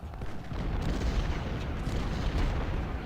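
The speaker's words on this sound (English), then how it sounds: "We've got a lot of artillery. This is sounds like some big guns." Artillery thunders in Ultimate General: Civil War as Napoleon and 10-pound ordnance cannons fire, a heavy, continuous low rumble of overlapping booms with a few sharper reports breaking through.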